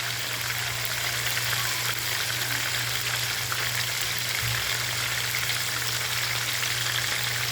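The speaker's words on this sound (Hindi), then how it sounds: "एक कढ़ाई में तकरीबन 1 कप के करीब ऑयल लेंगे, और उसके अंदर टमाटरों को हल्का सा सॉफ्ट करेंगे।" Tomatoes softening in about a cup of oil in a kadai for salty mutton, giving a steady, even sizzle and crackle that carries on without a break and stays fairly close, with no talking over it.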